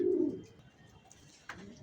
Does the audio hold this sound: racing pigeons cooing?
yes